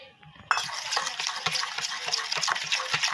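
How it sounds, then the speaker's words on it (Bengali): A spoon scrapes and clinks steadily around a bowl as butter and refined oil are mixed together, close up with a rhythmic swishing texture after a brief quiet start. "এটাকে ভালো করে আগে একটু গুলিয়ে নেব চামচ দিয়ে।"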